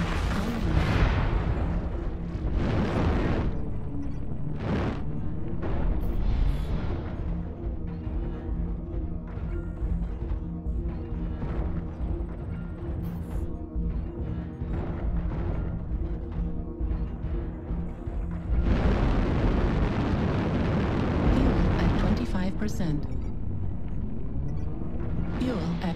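Artillery strike explosions in the mech combat game MechWarrior Online, a dense, loud rumbling barrage of booms that swells again late on, with a voice talking underneath.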